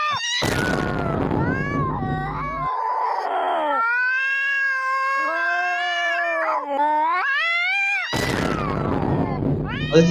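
A cat meows and caterwauls in long, drawn-out, wavering calls that rise and fall, loud and close, with a few harsher bursts at the start and end.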